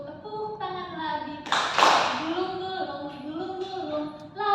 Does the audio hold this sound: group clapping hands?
yes